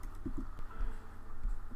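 Fast typing on a computer keyboard picked up by a microphone mounted just above it, a few sharp clustered key clicks over faint room noise, with no talking.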